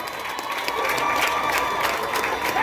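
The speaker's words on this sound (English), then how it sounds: "Give them a round of applause, everyone." An audience at a school graduation and valedictory service applauds steadily, with dense, sustained clapping from a large crowd throughout, moderately loud.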